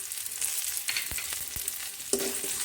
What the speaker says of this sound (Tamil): ஜஸ்ட்டு சூடு பிடிக்க மிக்ஸ் பண்ணி விட்டுருங்க